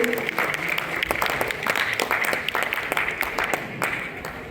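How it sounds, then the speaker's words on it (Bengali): Continuous moderate applause from an evening cultural-program audience honouring a percussionist, a steady patter of many hands clapping together for several seconds without letting up. "তাও করতালি থামালে চলবে না।"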